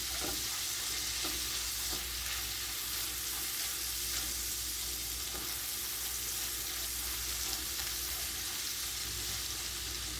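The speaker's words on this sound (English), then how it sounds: "trying to also melt down the anchovies into our sauce" Anchovies melting into a tomato-paste sauce in a pan for chicken puttanesca, a continuous even sizzle heard up close with no talking.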